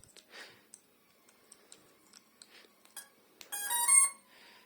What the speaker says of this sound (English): You can hear the ESC's beep if you want.